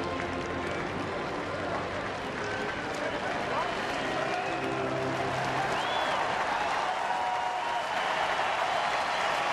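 A baseball crowd at Target Field in Minneapolis keeps up a steady roar of cheering and applause as fans rise to their feet, with a broadcaster talking over it.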